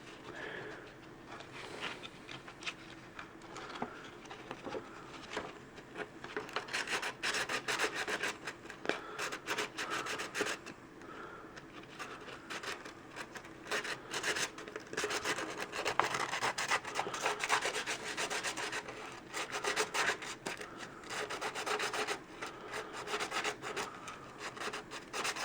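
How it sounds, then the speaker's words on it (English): Sandpaper rubs back and forth on a part of a Dyson DC07, DC14 or DC33 vacuum during a drive belt replacement, giving a soft, quiet rasping that repeats in uneven strokes and grows busier after the first few seconds. "But I got some sandpaper."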